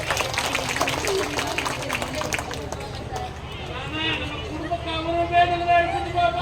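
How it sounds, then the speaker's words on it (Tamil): Audience applause at a special talk in a family deity temple: sustained, fairly loud clapping from a crowd, with murmuring voices underneath throughout. "அவங்க சிரிக்கிற நல்ல ஒரு கைத்தட்டல கொடுங்க"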